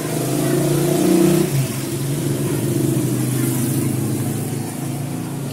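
A Kawasaki Barako 2 motorcycle engine roars steadily at close range, swelling briefly as if revved before settling into a continuous rumbling drone.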